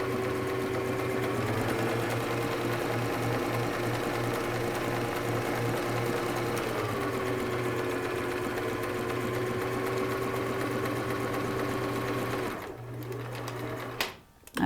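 Sewing machine running a zigzag stitch along a turban hem, a steady rapid mechanical whir for about twelve seconds, then stopping with a few handling clicks.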